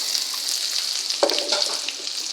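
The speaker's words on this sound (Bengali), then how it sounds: "এখন আমি পেঁয়াজ কুচি দিয়ে দেব।" Half a cup of chopped onion hits browned oil in a pan for a water spinach stir-fry, producing a bright, continuous close-up sizzle with a single soft knock in the middle.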